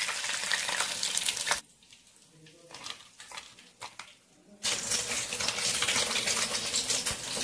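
Chicken pakoda pieces fry in hot oil with a loud, hissing sizzle that drops to a quieter bubbling for a few seconds, then surges back up strongly.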